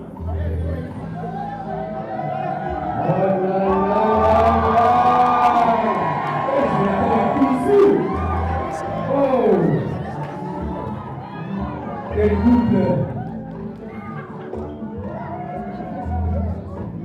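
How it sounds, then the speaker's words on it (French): Wedding guests cheer, whoop and shout in a lively crowd, with loud overlapping voices and chatter sustained throughout, swelling and dipping in waves. "Dois-je encore vous demander d'applaudir?"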